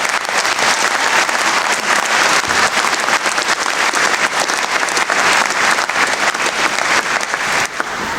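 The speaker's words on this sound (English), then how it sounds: "I think you all deserve a good round of applause at the outset for all your hard effort." A graduation ceremony audience for a Faculty of Business, Law and Social Sciences gives a loud, sustained round of applause, dense with many hands clapping continuously for several seconds and no voices on top.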